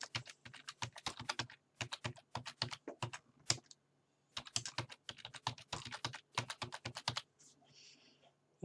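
Rapid keystrokes on a computer keyboard as a password is entered, two bursts of close, crisp clicking separated by a brief pause, with no talking.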